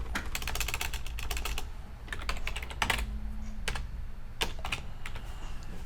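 Keys clatter on a computer keyboard as a file name is typed, quick irregular clicks in short bursts with small pauses, close and clear with no talking.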